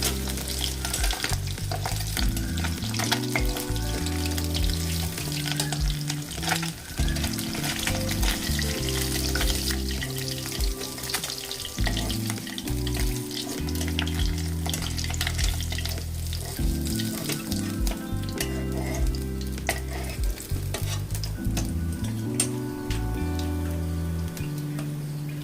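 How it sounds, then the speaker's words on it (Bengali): Small puti fish deep frying in a pan of oil, a loud continuous sizzle and crackle that holds steady, with low rumbling and occasional scrapes from stirring. "এইভাবে বাকি মাছটাও ভেজে নেব।"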